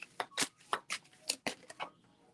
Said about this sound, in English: let me shuffle again for the last card.